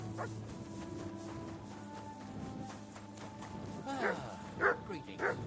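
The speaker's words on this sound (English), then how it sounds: "Such a naughty dog. Sit and bark." A dog barks in the medieval video game Kingdom Come Deliverance 2, several sharp barks near the end over game ambience, hoofbeats and character talk.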